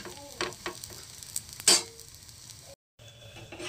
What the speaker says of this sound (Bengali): একটু মিডিয়ামে রেখে একটু সময় নিয়ে এগুলোকে এইভাবে ভাজতে হবে।